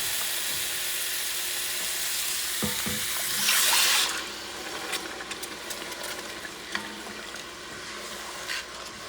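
A hot pot of lobster tail stew base sizzles steadily, then water pours in with a brief rushing hiss before the sizzle settles into softer bubbling and crackles.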